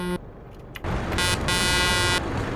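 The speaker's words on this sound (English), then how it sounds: "I really hate how wimpy the honk is. It's like buzzy. It's like a bee." A car horn gives thin, buzzy, wimpy honks: a short beep, then a longer sustained blast over an idling engine and background noise.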